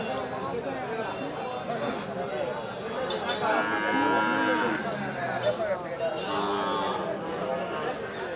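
Cattle mooing repeatedly in a busy weekly rural cattle and goat market, with people talking and crowd chatter throughout, fairly close and steady.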